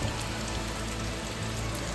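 Heavy monsoon rain pours down without pause in the Malenadu hills near Chikkamagaluru, a dense, even roar of water hitting surfaces close by.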